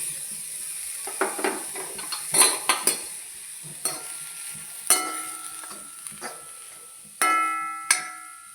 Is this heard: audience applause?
no